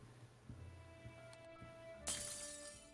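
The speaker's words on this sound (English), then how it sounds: "As you all hear a piece of pottery" Pottery shatters on the ground in a single sudden bright crash after a quiet stretch with a few soft knocks, fairly near and alone with no talk.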